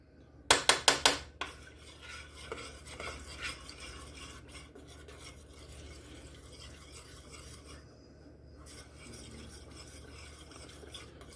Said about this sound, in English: Just continuously stir.